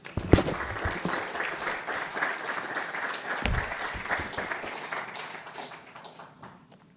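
An audience at the National Archives breaks into sustained applause welcoming a speaker, a broad wash of clapping that holds steady and then gradually fades away toward the end.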